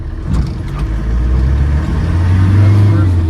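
A 1984 Land Rover 110 with a 300Tdi diesel engine and R380 five-speed manual gearbox accelerates through the gears. The engine drone is loud and close and rises in pitch, with a speaking voice over it.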